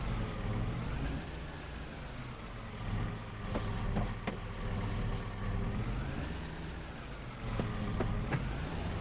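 Car driving in Farming Simulator 22, a steady engine drone with shifting tone that rises and falls as the vehicle moves, and a few faint clicks along the way, with no talking.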